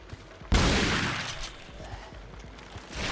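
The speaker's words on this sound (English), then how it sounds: "I'm trying to use the shotgun specifically" A single loud shotgun blast from Resident Evil 4's Separate Ways campaign bursts out, followed by a long rumbling decay and quieter game sounds.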